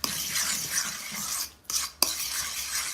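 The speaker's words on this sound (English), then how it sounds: "So 3 eggs here in a mixture, and I will just mix that a little bit like this." Three eggs are whisked in a bowl, giving a steady close-up scraping, sloshing stir with brief pauses and a light clink of utensil against the bowl.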